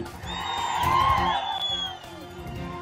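A crowd at a Telugu political rally cheers and shouts loudly, swelling to a peak midway and then easing, with scattered whoops over the din.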